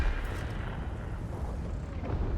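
An enemy tank firing at the player's tank in a tank combat video game: a heavy, booming cannon blast that rolls into a dense, rumbling roar lasting the whole moment, loud and close, with no talk.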